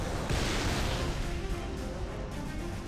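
Halo: Combat Evolved assault cannon hunters fire without letup in a video game, a dense and loud barrage of blasts and crashing impacts that covers the whole stretch, no voices heard.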